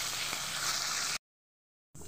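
Potatoes fry in hot oil with salt, giving a steady, close sizzle. It cuts off to silence for almost a second and then briefly comes back.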